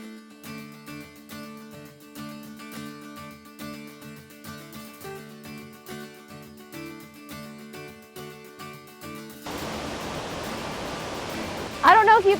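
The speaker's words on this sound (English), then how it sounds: "it's super loud because we're at the base of the waterfall" Looking Glass Falls roars loudly from its base, a dense rushing wash of water. It arrives abruptly near the end after a stretch of music and stays loud and steady until the clip stops.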